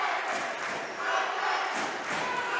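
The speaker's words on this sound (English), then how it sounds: "Crowd is chanting defense." A dense, loud basketball crowd at a game at Cumberland Valley, chanting in rhythmic surges that rise and fall throughout.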